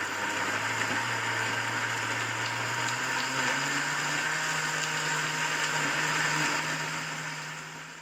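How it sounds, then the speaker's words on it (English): A kitchen blender whirs steadily and loudly, churning stew ingredients for Fante Fante, its motor pitch shifting slightly before winding down at the end. "So we are going to blend all these. I'm taking it to the blender."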